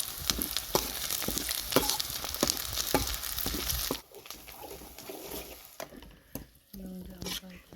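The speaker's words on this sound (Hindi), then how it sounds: "ये ग्रीन चिलीज़ भी हम फ्राई कर लेंगे अनियंस के साथ।" Finely chopped green chilies fry with onions in a pan for homemade veg momo filling, a steady close sizzle with stirring scrapes that drops quieter halfway through.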